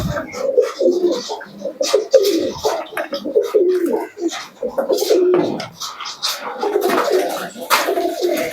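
Giriraj pigeons coo repeatedly in soft, low bursts close by, overlapping in an uneven rhythm with scratchy rustles, while people talk intermittently nearby.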